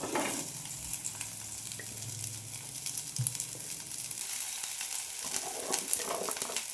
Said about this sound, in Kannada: ಆಮೇಲೆ ಬೆಂಡೆಕಾಯಿನ ಚೆನ್ನಾಗಿ ಫ್ರೈ ಮಾಡ್ಕೋಬೇಕು